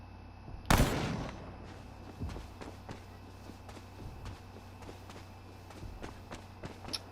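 A single loud sniper rifle shot rings out in the video game Memory of Mars, followed by faint scattered footsteps and quieter game sounds.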